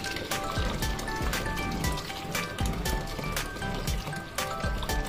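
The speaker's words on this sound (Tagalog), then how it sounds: "Lagyan ko na ng mainit na tubig mga kaberks." Hot water pours steadily into a bowl for pansit palabok noodle broth, a continuous liquid fill that runs close and clear for about five seconds, with no talking.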